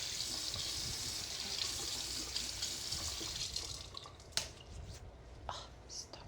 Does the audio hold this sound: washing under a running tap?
yes